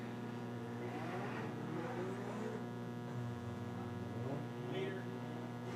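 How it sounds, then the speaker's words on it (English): Four-cylinder race cars on an icy enduro track at the 2022 Land of Legends Enduro: a steady, distant engine drone with passing revs, under a commentator's continuous talk. "these guys are pretty much, and girls, racing on ice right now"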